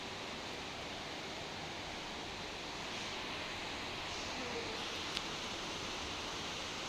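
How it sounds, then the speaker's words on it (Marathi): Heavy floodwater rushing through a street in Hinjewadi, Pune, during heavy rain roars as a broad, steady wash of noise, continuous and fairly distant, with no voices. "अगदी मुसळधारपणे पाणी वाहत आहे"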